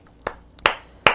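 Three separate sharp hand claps ring out near and loud at uneven intervals, following a cheer for a singer's performance; no one talks over them.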